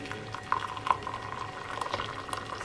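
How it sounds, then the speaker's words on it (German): Water is poured into matcha powder in a cup, a light bubbling and trickling pour close to the microphone with small splashy peaks, and no talk over it. "ein bisschen Wasser jetzt noch mit rein."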